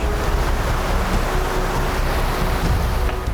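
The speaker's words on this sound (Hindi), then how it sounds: "एक गहरा नाला मिला, पानी की धार भी तेज थी।" Fast, turbulent water of a deep forest stream rushes in a steady, loud broadband roar with no pauses, close to the listener and free of voices.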